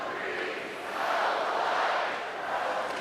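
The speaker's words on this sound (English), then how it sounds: "This crowd more into it right now than we've heard them all night." A college hockey arena crowd roars and cheers during a Big Ten game, a broad sustained wash of voices that surges louder in the middle and stays loud throughout.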